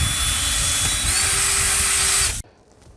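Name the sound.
drilling holes into plastic windshield with 1/4-inch drill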